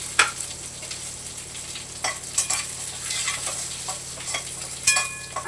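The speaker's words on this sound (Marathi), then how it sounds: "आता हे तेलामध्ये थोडीशी मोहरी, थोडंसं जिरं, लसूण चेचून ठेवलाय" Mustard seeds, cumin and crushed garlic sizzle steadily in hot oil, close and moderately loud, with sharp spoon scrapes and taps against the pan at irregular moments and no talking.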